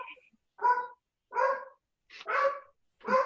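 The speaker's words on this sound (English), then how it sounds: "Whose dog is that?" A dog barks four times at a steady pace, fairly close and clear against a quiet room.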